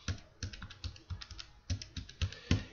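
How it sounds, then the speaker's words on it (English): Short bursts of light plastic key presses on a calculator, clicking in quick uneven clusters with brief pauses, close and fairly quiet with no voices. "So let's type that in our calculator."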